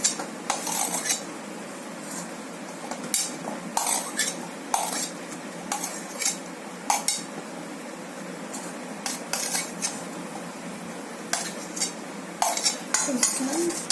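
A spoon stirs chopped apple in a bowl during a no-cook cooking activity, giving repeated light clinks and scrapes against the bowl in an irregular rhythm, close and moderately loud with a soft background hiss.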